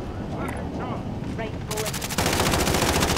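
Fortnite gunfire: rapid automatic bursts crackle loudly and steadily through the second half, after a stretch of voices talking over quieter game sounds.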